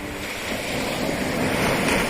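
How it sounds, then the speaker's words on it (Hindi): Ocean surf rolls in at Marari beach, a steady, loud wash of breaking waves that swells toward the end, with wind buffeting the microphone and no voices. "मरारीकुलम बीच का समुद्र का वेव देखिए,"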